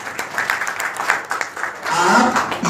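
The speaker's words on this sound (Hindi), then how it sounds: "ठीक है ताली बजाने के लिए" An audience claps in a hall, a scattered patter that swells into fuller applause near the end.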